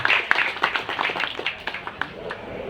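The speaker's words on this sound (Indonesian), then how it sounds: "Tepuk tangan untuk Pak Reza dan Pak Seno." A small gathering at a staff fast-breaking event claps hands, the claps distinct and uneven, fading over under three seconds.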